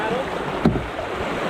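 A paddle dipping and pulling backwards on a river, one brief splash midway through steady flowing water and light wind in the background.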